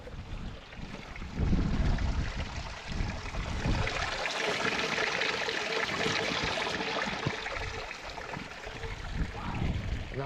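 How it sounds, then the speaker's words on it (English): Water gurgles and rushes steadily between stones below ground on a Scottish hillside in Glen Clova, a continuous broad wash of sound with a gusty outdoor rumble, swelling slightly at times. "The water sometimes flows through the ground in these places, carving its way between the stones."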